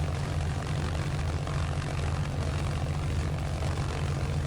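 The radial engine of an A6M5 Zero warms up in MSFS 2024, a steady, unbroken propeller drone with a strong low throb that holds even and loud throughout.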